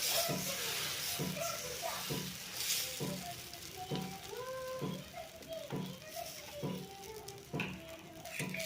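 Lentil-free instant dosa batter on a hot pan gives a steady close sizzle, with rhythmic tapping or spreading strokes repeating about twice per second and faint voices in the background.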